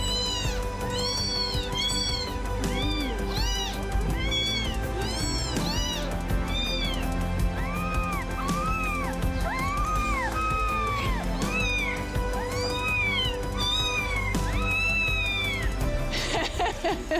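A rescued kitten meows over and over, high and plaintive, with short rising and falling cries over steady background music.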